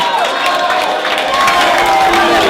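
A crowd at a rap battle event in Glasgow cheers and claps in a steady, loud wash of noise, with shouts rising above the applause throughout.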